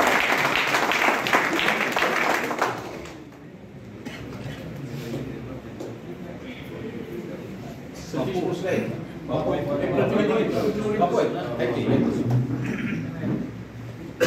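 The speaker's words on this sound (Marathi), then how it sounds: "त्यांना जोरदार टाळ्या वाजवतात." Village felicitation gathering applauds a President's award winner, a loud burst of clapping at the start that fades out, followed by murmuring crowd and overlapping talk with scattered claps.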